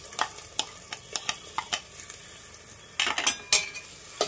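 Ground onion-coconut masala paste with turmeric, chilli powder and garam masala frying in a pan, a soft sizzle broken by repeated sharp scraping and clinking strokes of a spoon, louder toward the end.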